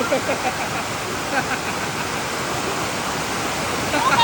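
People swim and splash in water, a dense, steady wash of splashing and rushing water filling the few seconds, with voices mixed in.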